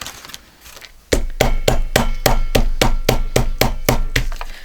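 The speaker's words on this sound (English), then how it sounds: "Then hammer some of that down a little bit." Steady metal hammer strikes flattening metal eyelets, about a dozen evenly spaced sharp clangs, loud and close, following a brief quieter stretch.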